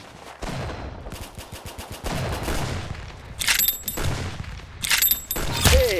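Bursts of rapid-fire gunshots and sharp single shots from the online shooter game Arsenal, arriving in several clusters with a higher-pitched crack layered over heavy thumps.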